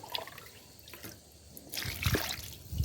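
Water splashing and trickling in a bowl as chopped ingredients are rinsed by hand, with a soft dribble at first that grows into louder, close splashing toward the end.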